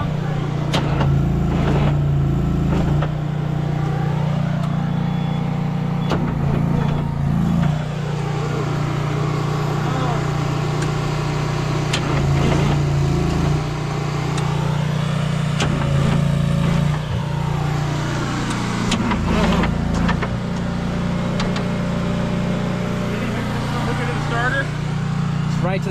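An abandoned Kenworth C500 truck engine cranks over steadily on its starter in a long, loud, continuous drone, with people talking over it.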